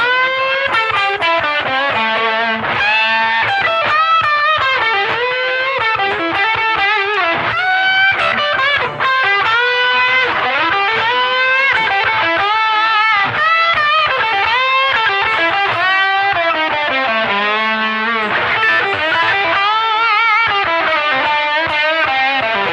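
Distorted electric guitar plays a blues phrase packed with minor third string bends and vibrato, each note sustained and gliding up in pitch, loud and continuous with no talking.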